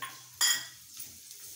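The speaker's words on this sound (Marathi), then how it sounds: "त्याच्यावर हा बिया काढून घेतलेला खजूर भाजून घ्यायचा आपल्याला" Seedless dates being roasted in half a spoon of ghee in a kadhai, a sharp metal clink of a spatula against the pan followed by quiet stirring scrapes and a faint sizzle.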